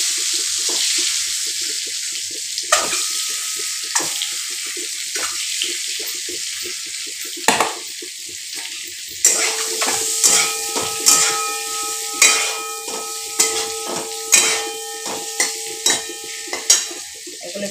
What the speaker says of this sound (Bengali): এগুলো একটু ভাজা হোক লাল লাল করে।